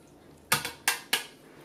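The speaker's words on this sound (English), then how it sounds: "Just gonna give this a little bit of a stir." A spoon clinks against a measuring cup three times in quick succession while stirring liquid, sharp close taps with brief ringing decay, no voices.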